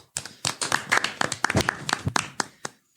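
A brief round of applause from a few people at a podcast's two-hundredth episode celebration: sparse, distinct claps close by, irregular in rhythm, fading out within about three seconds.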